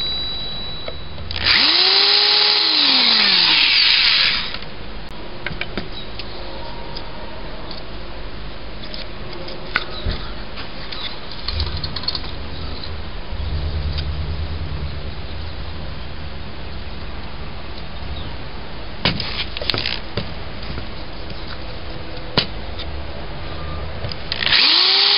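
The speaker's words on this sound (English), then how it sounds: "Get our holes drilled in our acrylic." Power drill boring holes in acrylic sheet: a loud near whirring burst that rises and falls at the start, followed by quieter spells of drilling and handling with a few sharp clicks and a second brief whir at the end.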